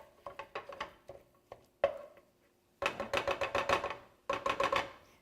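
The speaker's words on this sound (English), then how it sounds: "using the mix and chop, I'm just going to crumble" Hard plastic mix-and-chop tool scraping and tapping against a pot as turkey sausage is crumbled, quick clattering strokes in short bursts with brief pauses between them, close and crisp.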